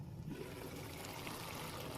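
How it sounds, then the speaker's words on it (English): Liquid juice poured off a pan of fried collard greens cooked without meat, a steady close trickle and splash of oily liquid running continuously for a couple of seconds. "I poured some of the juice off of it."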